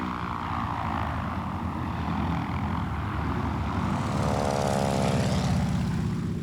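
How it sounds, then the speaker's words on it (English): Ford Trimotor propeller plane flies past with a steady droning engine roar and propeller buzz, growing slightly louder and shifting in pitch toward the end. "so we developed the Ford Trimotor plane"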